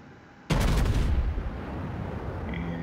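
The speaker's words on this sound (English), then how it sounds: "3 rounds from the rear turret go out at him." A battleship's rear turret guns fire in World of Warships, North Carolina class: one sudden heavy boom followed by a long rumbling roar that slowly fades.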